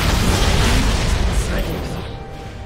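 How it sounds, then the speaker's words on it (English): A turret is destroyed in League of Legends with a loud, sustained explosive boom and rumbling crumble that slowly fades over a few seconds. "Your team has destroyed a turret."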